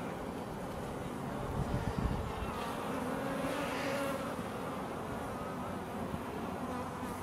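Bees hum densely around an opened beehive during a hive inspection, a continuous close swarm drone with faint wind, and no clear speech over it.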